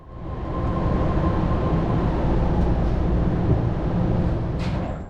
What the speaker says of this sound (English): for such an old train, I found the ride quality to be really rather good, even at top speed.